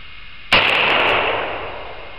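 One sharp, loud rifle shot from a gun fitted with a crown style muzzle brake, a sudden crack followed by a long ringing, echoing decay, with no talking.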